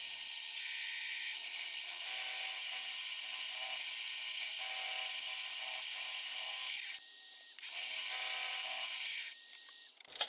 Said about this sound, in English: I'll then take it back to the milling machine and use a radius ball end mill to add some sharp geometry